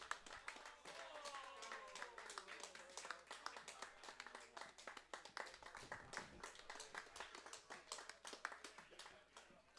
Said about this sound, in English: Nice round of applause there for the teams coming off of Sheet D.